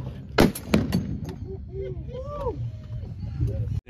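A firearm fires several sharp, loud close shots in quick succession at the start, followed by excited voices talking and shouting outdoors over steady background rumble.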